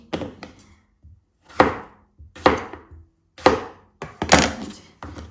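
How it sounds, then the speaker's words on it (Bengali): Knife chopping potatoes on a cutting board for a vegetable curry with beans, cauliflower and tomato: five or six close, crisp thunks in an uneven rhythm with short pauses between, no talking. "এখানে আমি আলুটা কত সুন্দর সুন্দর করে কেটে নিচ্ছি"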